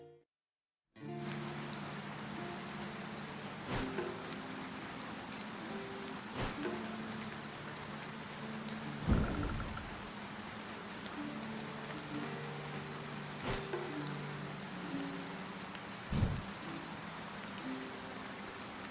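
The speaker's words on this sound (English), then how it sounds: "I think it's rained this entire episode so far" Steady, dense rainfall patters on surfaces through a Dead in Vinland game scene, a continuous hiss with a few louder thumps along the way and no talking.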